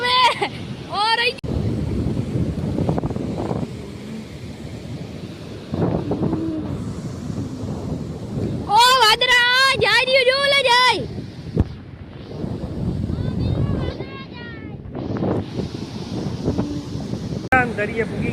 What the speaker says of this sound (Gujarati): તમે જોઈ શકો હોય પવન વધારે છે, અવાજ ઓછો સંભળાય